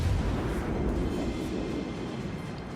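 A battleship shell hit on a warship in a naval video game, a low, sustained rumbling explosion that stays loud and dense before slowly tapering off.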